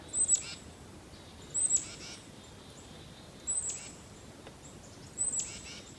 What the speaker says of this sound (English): The birds are liking the seed I gave them.